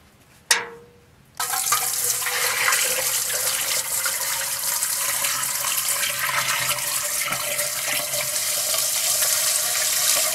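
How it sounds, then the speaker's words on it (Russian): Water poured from a tap into an autoclave loaded with glass jars, a sharp clunk followed by a steady, loud gushing fill that continues without pause and with no talking. "Заливаем воду."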